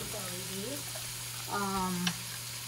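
Taco meat sizzling steadily in a pan as sauce goes in, a close, constant frying hiss with a brief clink near the end, while a person speaks over it.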